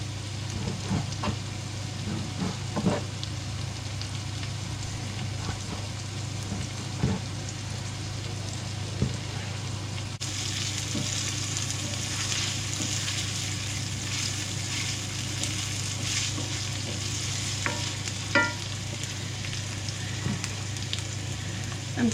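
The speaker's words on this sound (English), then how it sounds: "So into that I'm going to put some pancetta." Smoked pancetta sizzles steadily in a pan with a constant crackling hiss and occasional soft stirring scrapes, close and even throughout.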